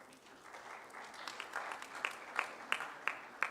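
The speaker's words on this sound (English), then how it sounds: "So big round of applause for Dr." Scattered clapping grows into steady applause from a modest medical-conference audience at a prize announcement, with sharp individual claps standing out toward the end.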